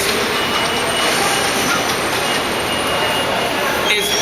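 A New York City 7 line subway train rumbles loudly and steadily, with a constant high wheel squeal over the roar of the car.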